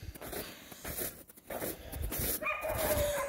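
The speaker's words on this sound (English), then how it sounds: "We have to feed our dogs, they're hungry." Hungry dogs bark, yip and whimper in short bursts outdoors after snow, with a thin high whine rising toward the end.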